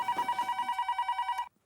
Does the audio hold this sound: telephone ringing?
yes